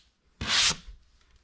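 A single short pass of sandpaper over a drywall patch, a brief breathy scrape lasting about a third of a second, fairly close and isolated against near silence.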